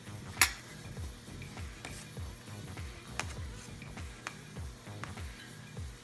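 A spoon stirring a plant-based meal in a pot, soft rhythmic scraping sweeps repeating about twice a second with an occasional sharp clink, quiet and close with no talk.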